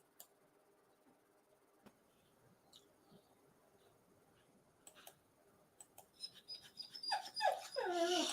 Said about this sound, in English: It's the dog crying.